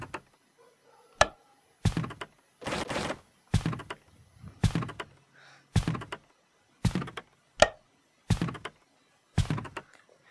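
Locked door in a horror video game rattling and thudding as it refuses to open, about ten sharp knocking clunks at uneven intervals with near-silence between them.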